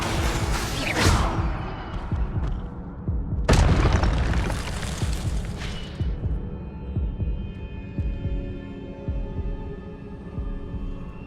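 An Incendio fire spell bursts in Hogwarts Legacy, two loud booming blasts a few seconds apart, each with a crackling fiery flare, followed by a lingering low hum.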